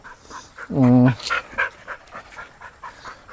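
A young Pomeranian or Labrador puppy gives one short, loud whine-like burst, then pants softly for the rest of the clip, with faint background sounds.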